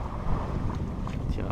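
A sailboat moves under sail along the coast near Brigançon, giving a steady rush of wind and water noise with low, rumbling buffeting. A voice is faintly present in the background.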